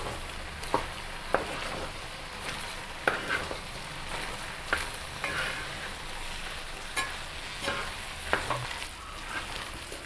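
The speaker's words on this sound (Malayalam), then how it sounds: "ഇനി ഇത് നന്നായിട്ടൊന്ന് ഇളക്കി കൂട്ടണം." A spoon stirs a Kerala-style jackfruit and beef biryani with coconut oil and curry leaves, making a steady background sizzle broken by recurring scraping clinks from the pan, close and fairly quiet.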